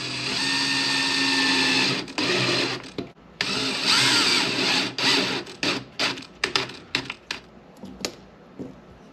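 Bolting the lid onto an Arrma Mojave 4S RC car: a power driver whirs loudly for a couple of seconds, then pauses, followed by a string of shorter whirring bursts and clicks as the screws tighten up close.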